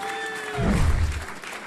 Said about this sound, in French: On applaudit les boxeurs, s'il vous plaît